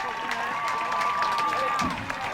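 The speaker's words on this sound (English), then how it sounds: "It's a round of applause from both sides" Spectators at a high school football game between Pusch Ridge and Snowflake applaud from both sides, a broad outdoor wash of clapping and light cheering with a sustained whistle-like tone and some voices mixed in.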